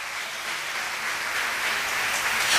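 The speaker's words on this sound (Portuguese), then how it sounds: "Então agora deram uma salva de palmas para o seu Deus." Church congregation at an evangelical service gives a brief round of applause, a moderate, even wash of clapping that swells slightly toward the end.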